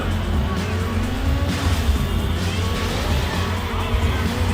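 A car in a racing video game drives with a constant engine drone and road rumble, steady and unbroken throughout with no talk over it.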